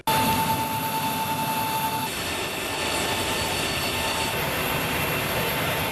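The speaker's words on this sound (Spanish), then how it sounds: "Aviones de comando aéreo de transporte de los Estados Unidos moviendo equipo importante." A US Air Mobility Command transport aircraft at Al-Asad air base in Iraq gives a steady, loud engine roar and rumble that holds across the whole stretch, with a faint tone fading out partway through.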